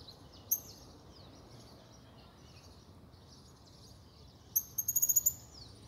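A small bird in the town square of Praça Manoel Gomes Galeno in Dracena, São Paulo: a few faint high chirps and then a quick run of six sharp repeated notes near the end, over quiet background hum.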